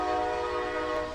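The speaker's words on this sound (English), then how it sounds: "that's the Trump train" A train horn sounds steadily as a train passes, a sustained chorded blast holding for the whole moment with rumble beneath, loud and fairly close, no voices.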